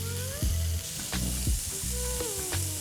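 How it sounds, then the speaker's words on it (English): Steak sears in ripping-hot neutral oil in a heavy cast iron pan, crackling and sizzling loudly with irregular spits and pops, no voices. "all we're doing is searing this steak here on one side, flipping it, searing it on the other"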